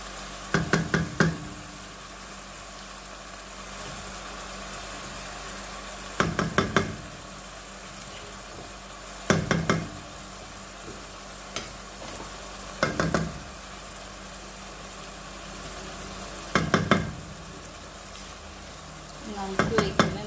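Pot of beans with pig feet and sausages being cooked, with a steady low sizzle throughout and several short bursts of stirring and knocking against the pot as tomato goes in, spaced every few seconds.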